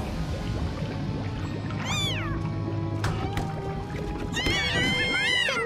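A cartoon group of cats in a dinosaur costume meows repeatedly, with short rising and falling cries heard over background music and sound effects.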